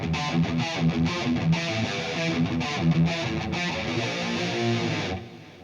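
An electric guitar runs through the Shit Cow Distortion preset on a LEKATO PA-1 headphone amplifier, playing loud, saturated rhythmic riffs with choppy palm-muted hits before ringing out and fading near the end.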